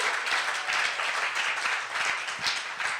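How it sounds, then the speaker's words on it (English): Steady audience applause at a talk on educational outcomes and the internet, dense clapping filling the room evenly for a few seconds with no voices over it. "give a big round of applause for Ethan Crawford right now"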